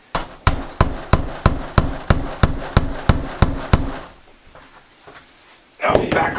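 A hammer drives a nail into the tough plastic of a garden tub, about a dozen loud, evenly spaced strikes close up, then a pause before a short rustling clatter.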